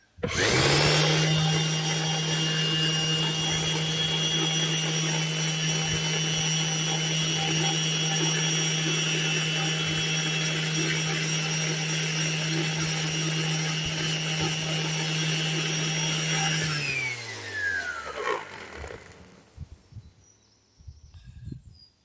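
A sanding disc strips thick lacquer from a Jaguar XK8 gear knob: a loud, steady motor whine runs continuously for about seventeen seconds, then winds down and fades out.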